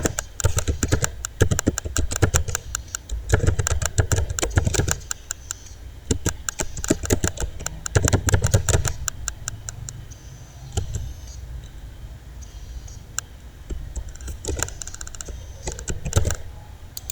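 Rapid typing on a computer keyboard while filling in a WordPress profile, dense bursts of close, crisp key clicks with brief pauses, no talk.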